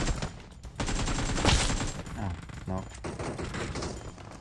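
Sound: gunfire in the video game PUBG Mobile

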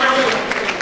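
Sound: audience applause

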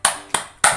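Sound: hand clapping in a children's animal clapping game (chicken clap)

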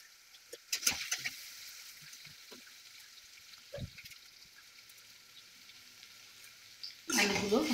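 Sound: potatoes and eggplant frying in a pan

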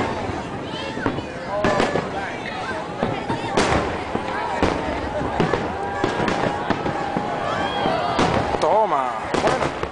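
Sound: fireworks exploding over Sydney harbour on New Year's Eve

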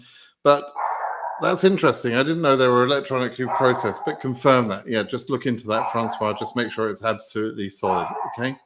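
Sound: dog barking

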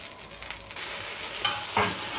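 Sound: uttapam cooking in oil on a griddle

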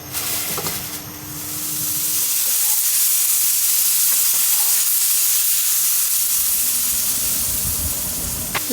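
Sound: frying bitter gourd (karela bhaji) in pan

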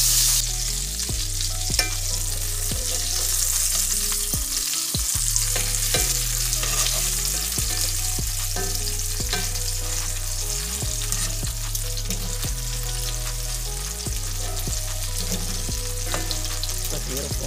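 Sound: breaded oyster mushrooms frying in a pan

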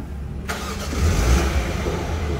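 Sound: car engine starting

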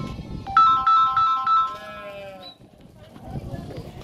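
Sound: goats bleating

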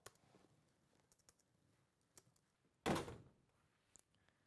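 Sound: door being shut

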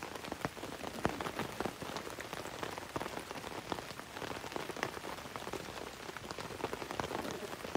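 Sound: heavy rain falling on tent and tarp

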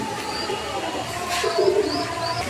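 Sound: pair of red Bombay pigeons cooing

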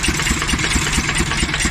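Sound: engine with tractor drive running at an engine exhibition

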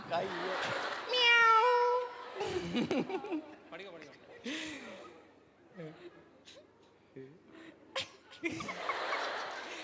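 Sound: voice imitating a cat meowing

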